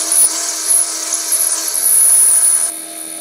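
A roughing mill on a milling machine, spinning at just over 1,000 RPM, cuts into the flared section of a steel breaker bar, giving a steady high-pitched machining whine at close range with no talk.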